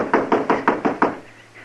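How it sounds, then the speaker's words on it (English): Six firm knocks on a door in a radio western drama, evenly spaced and close, followed by quiet. "Go ahead and knock."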